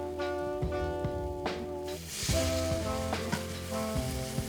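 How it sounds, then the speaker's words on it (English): Red wine poured into a hot pan to deglaze the browned bits for a homemade marinara, bursting into a loud hiss and sizzle midway, with scraping clinks of a utensil before and after. "We want to deglaze those. I'm gonna use a little bit of red wine."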